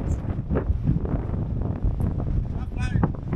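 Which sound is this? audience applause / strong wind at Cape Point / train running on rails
strong wind at Cape Point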